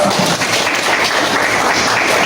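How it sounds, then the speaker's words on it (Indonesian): A class of students applauds on cue from their teacher, a dense, steady wash of clapping that fills the short span at an even loudness without a break. "Beri tepuk tangan dulu."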